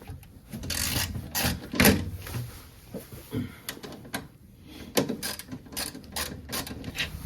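Bolts come out of a non-metal skid plate under a 2024 Toyota Tacoma TRD Off-Road in a string of close ratcheting clicks and metallic rattles, with irregular pauses between turns.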